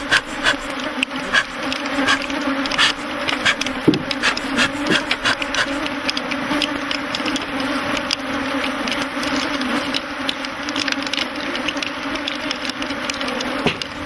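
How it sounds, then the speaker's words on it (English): Honey bees swarm around beekeepers working at hives in Africa, a loud, dense, continuous buzzing drone with constant flickers of individual insects passing close, sustained throughout without talk. "there must be several million bees swarming around the men"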